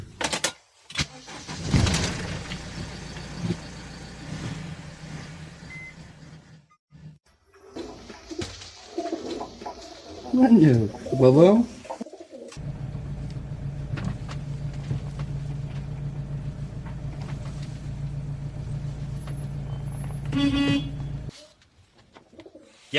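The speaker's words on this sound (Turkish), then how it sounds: "Sabahın köründe güvercin besliyor lan." Pigeons coo close by in soft, throaty warbles, mixed with rustling and a car engine idling and rumbling through much of the scene.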